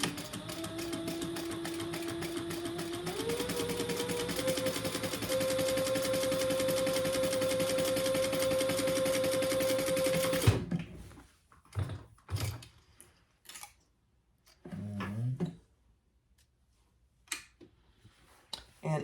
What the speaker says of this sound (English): I'm just going to sew along at the top of each of those card slots